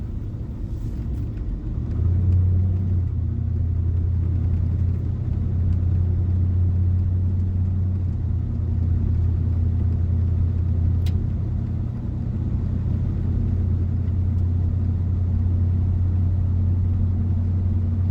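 A vintage big-block Chevy squarebody four-wheel-drive truck driving, a steady, loud low engine drone and road rumble heard from inside the cab, holding fairly constant throughout with slight swells.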